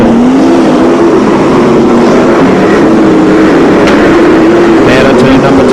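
Sprintcars roar down the back straight at Archerfield Speedway during a 1996 National Sprintcar Championship race, with loud, sustained engine drone under a race commentator's voice.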